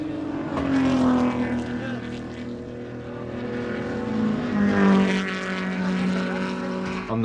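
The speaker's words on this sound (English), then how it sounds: "On the second attempt, the car fires up and moves out onto the track." A racing car engine from a 1969 Frank Matich team SR3 fires up on the track after being push-started, a loud, sustained engine drone with pitch rising and falling, close by and alone.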